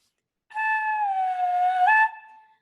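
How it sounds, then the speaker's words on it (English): A flute head joint played on its own gives one sustained, breathy whistle-like tone of about a second and a half, its pitch bent downward and then jumping back up as a finger is poked into the open end. "if you poke your finger in and out of the instrument,"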